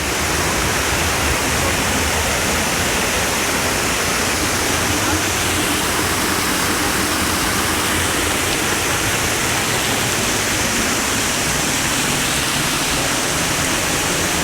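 Sgwd yr Eira waterfall in a wooded Brecon Beacons valley, a dense, steady roar of falling water heard up close, loud and unbroken, with no other sounds standing out.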